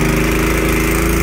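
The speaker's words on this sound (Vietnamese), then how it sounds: "hôm nay nhà cũng phải mướn cái máy khoan này nè để mà trồng cây đấy cả nhà" Engine-powered earth auger rented for digging tree-planting holes in clay soil, a loud, steady motor drone with a buzzing, mower-like tone running continuously and close by.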